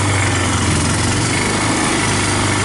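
A 1999 Yamaha Bear Tracker 250 ATV engine runs with the choke partly on, a loud, steady, buzzing drone held close and unbroken throughout.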